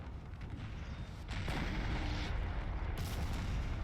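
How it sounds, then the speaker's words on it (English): Massed French cannon batteries in a Napoleon: Total War battle fire continuously as a dense, rumbling roar of overlapping booms that swells louder after the first second and holds steady. "All their cannons in the one place allows them to shoot out one position."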